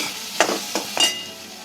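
A utensil scrapes and stirs chopped onions in a pan three times over a steady, soft sizzle of frying, close by and without talk.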